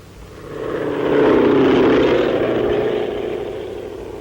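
A propeller airplane sweeps low over troops while spraying gas in a 1942 US Army scene. Its engine roar swells loud within the first second, holds steady, then slowly fades away.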